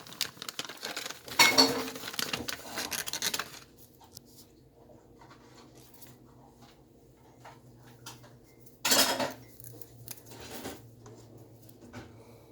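A herbal tea bag is handled and dropped into a Keurig coffee machine, giving bursts of close papery rustling and plastic clicks, then a quiet stretch before a sharp clatter as the machine's lid shuts.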